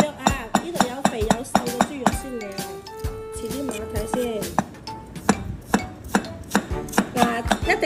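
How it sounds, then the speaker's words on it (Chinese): A knife chops lean pork on a board in quick, sharp, irregular strikes, close and loud, with light clinks of utensils and a voice talking in the background. "我们切一些瘦肉先"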